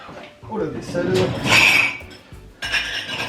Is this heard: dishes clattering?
yes